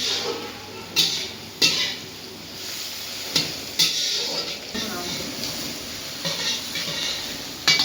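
Chicken cooking in a pan at home, a steady broadband sizzle with repeated scraping and stirring clatters against the pan, a few sharper utensil knocks, and faint voices in the background.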